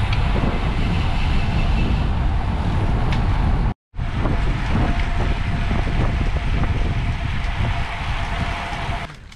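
Heavy wind roar buffets the microphone while cycling on a road ride, a loud continuous rumble with a brief dropout partway through.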